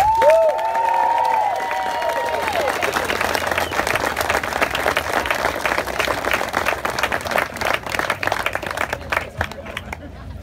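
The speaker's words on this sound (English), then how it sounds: "So let's give one more round of applause." An outdoor crowd at a charity check presentation for a breast cancer mud volleyball tournament gives a round of applause after a brief tonal cheer, with dense, loud clapping that turns more scattered toward the end.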